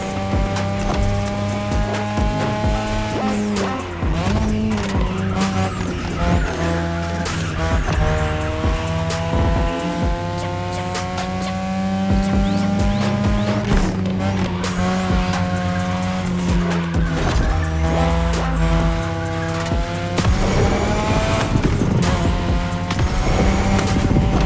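Race cars in The Crew Motorfest, pushed through a Japanese touge-style street race, roar loudly and continuously with shifting engine revs, tire squeals and skids throughout.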